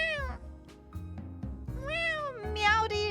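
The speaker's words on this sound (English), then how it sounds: "little Marigold sits right down in front of me, looking straight up and letting out a loud meow for attention" A cat named Marigold meows loudly for attention several times in a row, with drawn-out, rising and falling calls that are close and clear.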